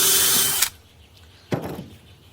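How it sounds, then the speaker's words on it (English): A power drill whines briefly as it bores a screw hole into a warped decking board, followed by a short second burst of tool noise after a pause. "So a drill hole"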